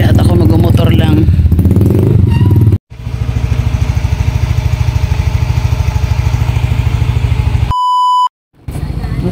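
A motorcycle engine starts and settles into a steady, close, rhythmic idle, with sputtering beforehand and a sharp electronic beep near the end, broken by two short silences.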